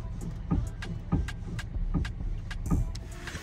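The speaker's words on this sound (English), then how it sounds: "Gonna put the shutters up, look, if you hear that guys." Electric roller shutters at a used car dealership rattle upward, a close mechanical clatter with regular rhythmic knocks repeating every half second or so over a low motor hum, with no talking.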